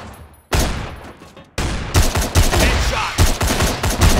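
Heavy Ash-12.7 rifle in the shooter game CrossFire firing repeatedly, loud close bursts and single booming shots after a short quiet start, with no voices.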